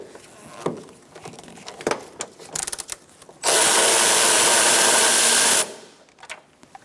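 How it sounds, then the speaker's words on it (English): A power tool spins a 12mm socket to remove a bolt while replacing the AC condenser on a 2014-2019 Kia Soul 1.6L L4, giving a loud, steady whir of about two seconds after scattered handling clicks and taps. "Now we're going to take out this bolt using a 12mm socket."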